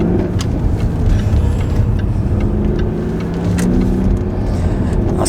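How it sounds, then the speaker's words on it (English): A supercharged 4.2-litre 2006 Jaguar XKR engine rumbles steadily close by, with a quick rise in revs as the throttle is blipped during a downshift. "That's the blipping and the downshift."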